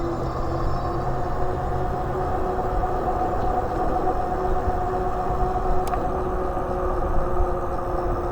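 A Kingbull Hunter 2.0S e-bike runs on throttle outdoors, a steady motor whine and rolling rumble holding an even level for several seconds, with wind noise blended in and no speech.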